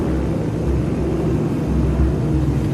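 World War II bomber planes fly toward the city of Kokura, a loud, steady low rumbling drone of engines that swells slightly and never breaks, with no voices.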